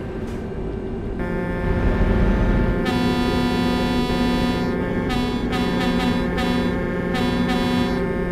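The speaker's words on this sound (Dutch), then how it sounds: "Ze is allemaal te toeteren." Several truck air horns blare together in Euro Truck Simulator, loud and sustained, with overlapping tones and short repeated blasts stacking over a steady engine drone.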